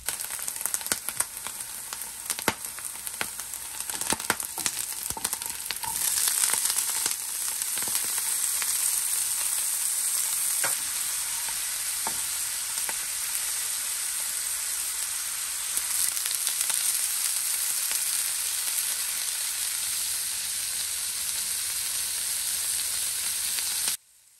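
Drained corn kernels hitting a hot pan, a bright crackling sizzle with sharp pops early on that settles into a steady, dense frying hiss, close and without talk, cutting off abruptly at the end.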